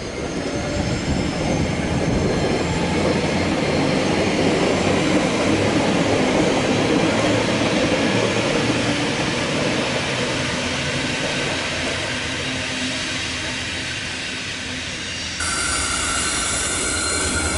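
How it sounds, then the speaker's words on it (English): A locomotive-hauled freight train, led by locomotive TT1080, passes on the freight line at Dulwich Hill with a loud, continuous rumble and roar of wagons that fades slightly, then picks up again near the end. "We have run number 1297 passing on the freight line."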